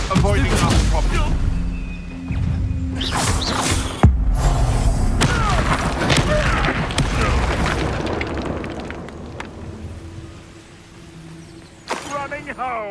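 Spell explosions in Hogwarts Legacy combat make repeated loud booms and popping bursts, with several sharp blasts over a busy mix of game sounds and spoken voices.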